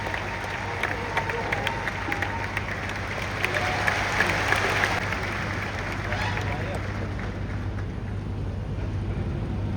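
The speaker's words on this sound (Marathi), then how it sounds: "जोरदार टाळ्यांचा गजर मंत्री महोदयांसाठी" A crowd at a rural postal conference applauds the minister, sustained clapping running the whole stretch at moderate level, with a low steady hum underneath and some voices mixed in.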